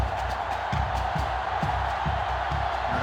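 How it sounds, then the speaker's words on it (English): Stadium crowd at a college football game, Tennessee against Notre Dame, roaring in a steady, loud wash with scattered whoops and cheers rising over a thumping rhythmic beat. "the crowd's going to get a little loud"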